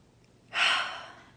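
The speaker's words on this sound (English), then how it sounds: "I ask the people in my life to forgive me for the times I've been angry for no reason. Deep breath in." A single deep, breathy inhale rises quickly and tapers off softly. It is close and clear, with no talk over it.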